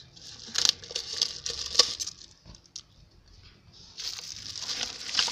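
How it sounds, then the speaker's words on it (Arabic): Powder poured out of a bag onto a meat and vegetable grill plate makes crinkling, rustling bursts of the bag with soft pattering, close up, in two busy stretches separated by a quieter pause. "فانا هبدأ هفضي كيس الكرور ده هوت عليها كله"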